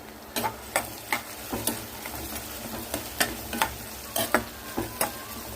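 Crushed garlic frying in oil crackles in a steady sizzle, punctuated by sharp, rhythmic scrapes and clinks of a spoon stirring the pan.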